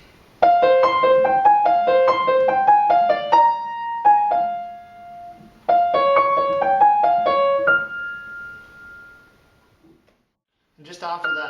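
Piano playing the right-hand melody of a tune at a slower tempo, clear single-note phrases in two passes with a sustained held note, close and alone, followed by a brief bit of talk.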